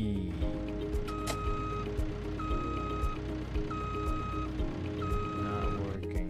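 Forklift reversing alarm in a forklift simulator game, a steady series of loud, evenly spaced beeps repeating about every second over a low engine rumble.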